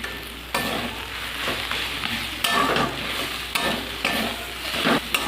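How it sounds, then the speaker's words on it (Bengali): Kalmi greens sprinkled with sugar are stirred in a hot pan, a continuous sizzle broken by repeated spatula scrapes and clacks, close up with no voices. "চিনিটা দিয়ে একটু নাড়িয়ে নেব"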